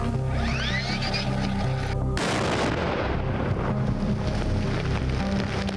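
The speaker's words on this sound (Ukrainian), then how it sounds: "Серією керованих вибухів знешкоджено близько сотні боєприпасів та дві протитанкові міни" A heavy explosion from a controlled detonation of munitions booms partway through, followed by a rumbling, crackling roar and debris-like rushing noise that continues to the end.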